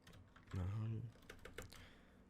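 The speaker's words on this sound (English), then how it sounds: "I don't know if you guys can hear this keyboard" Crisp keyboard clicks tap out in quick bursts near the microphone, with a brief voice sounding partway through.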